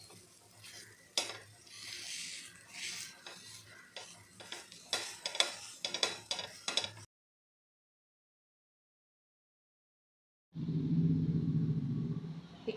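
Grated potato filling for stuffed chapati being sautéed and stirred in a pan, soft scraping strokes and light sizzling in irregular bursts, then a few seconds of silence before a louder, steady frying hiss returns.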